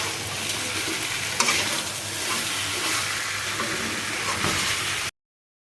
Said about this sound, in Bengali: এখানে মাংসটা কষাচ্ছি আমি